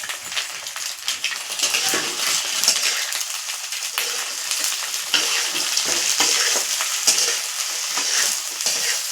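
Egg masala spices and ground chilli frying in a pan, with sizzling oil and the scrape and clink of a spoon stirring throughout, close and steady.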